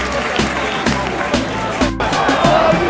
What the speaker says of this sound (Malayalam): ഒരാൾ ഇറങ്ങി വേറൊരാൾ കയറുമ്പോഴത്തേക്ക് കാണികൾ കൊടുക്കുന്ന പ്രോത്സാഹനമാണ് ഇപ്പൊ കണ്ടോണ്ടിരിക്കുന്നത്